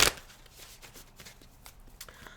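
A Spirit Animal Oracle card deck is shuffled up close, giving a quiet, rapid riffle and flutter of cards after a brief sharp onset.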